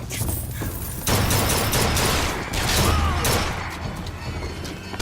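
Heavy gunfire in BioShock Infinite, a dense, loud barrage with booming impacts and crashes that runs continuously through the whole stretch.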